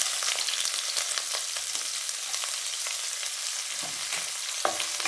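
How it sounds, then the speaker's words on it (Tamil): Onion frying in oil with cumin seeds and a bay leaf sizzles steadily and close, with a few soft scrapes of stirring and a louder clink near the end; no voices. "லேசாக வதக்கிக்கணும்"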